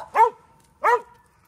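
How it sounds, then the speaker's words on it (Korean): A dog barks twice, sharp and close, on a quiet weekend morning, with a short pause between the two loud barks. "짖지 말고 흥분하지 말고."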